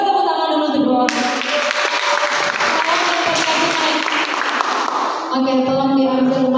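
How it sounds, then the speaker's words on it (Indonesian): An audience at a church youth community gathering applauds two people, loud sustained clapping filling most of the moment, with music or voices before and after. "kita tepuk tangan dulu untuk 2 orang"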